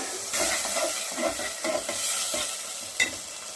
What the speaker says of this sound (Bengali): এবার আমি একটু অল্প জল দেবো, দিয়ে মশলাটা সুন্দর করে কষিয়ে নেব